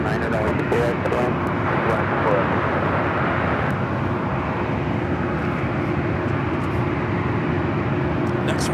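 Heavy Airbus A350 airliner at LAX airport: a loud, steady jet engine roar filling the whole clip as the aircraft passes nearby, with voices talking over it.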